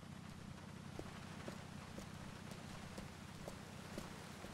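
Steady rainfall during a thunderstorm in the video game Grand Theft Auto 4, a constant hiss of rain with faint drips ticking at a regular pace, no talking.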